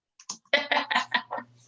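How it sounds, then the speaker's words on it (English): Someone types a short burst on a computer keyboard, about half a dozen close, crisp key clicks in quick uneven succession, heard alone in a quiet room. "see my terrible typing?"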